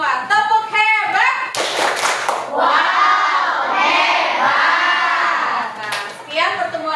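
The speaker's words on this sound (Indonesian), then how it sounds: "kita tepuk dulu ya untuk kalian semua" A class group claps together in a cheering round led by a teacher, with short bursts of clapping mixed among loud voices shouting and chanting nearby.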